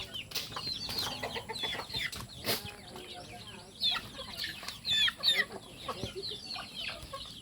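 Laying hens clucking nearby in irregular bursts, with occasional higher calls and soft rustling on a gamefowl farm.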